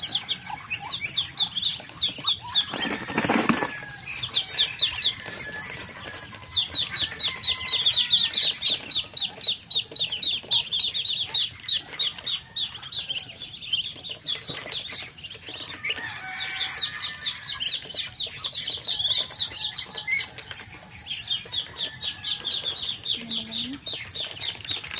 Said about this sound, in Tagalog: Feeding the duck.